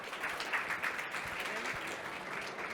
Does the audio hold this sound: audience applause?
yes